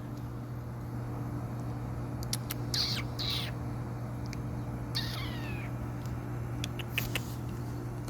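A cat meows outdoors in a few short, rising calls spread across the stretch, fairly faint over a steady low hum, with scattered bird chirps in between.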